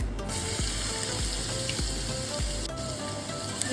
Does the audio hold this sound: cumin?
yes